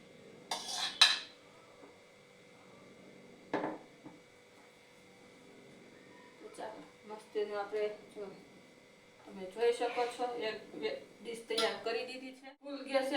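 Dhokla batter being poured and spread into a metal dish in a home kitchen, with metallic clinks and scrapes of a utensil against the plate, scattered and close, while someone talks throughout.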